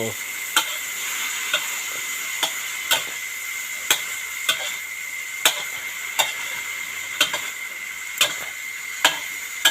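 Holy basil stir-fry tossed in a hot pan, a soft steady sizzle broken by regular sharp scrapes and clicks of the spatula roughly every second.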